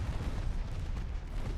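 Naval guns in the warship game Ultimate Admiral Dreadnoughts, mostly rapid 3-inch secondary batteries, produce a dense, continuous rumble of overlapping booms and blasts at moderate volume, with no talk.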